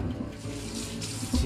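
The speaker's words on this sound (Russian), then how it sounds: "И сейчас можно уже сливать баклажаны." Boiled mini eggplants are drained, and the water pours and splashes steadily into a sink close by for a brief moment, with no talk over it.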